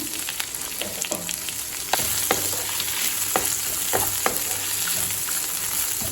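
Curry leaves sautéing in a pan for curry leaf rice, a steady close sizzle broken by a series of sharp stirring scrapes, without talk.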